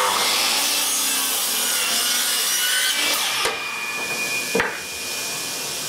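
A handsaw cuts a wooden piece to length for a camper van refit, with quick, close rasping strokes that end abruptly, followed by a couple of sharp knocks and a quieter settling sound.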